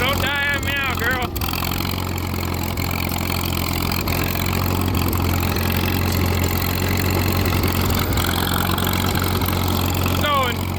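An old Caterpillar bulldozer that sat unmoved for nearly 50 years idles with a loud, steady diesel rumble close by, its uneven chugging running continuously with brief mechanical squeals at the start and end.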